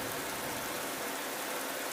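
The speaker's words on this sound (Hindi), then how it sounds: "उस रात बारिश के साथ साथ आंधी तूफान भी चलने लगा था।" Steady rain in a storm from an animated story, a dense, even hiss of falling water with no breaks across two seconds.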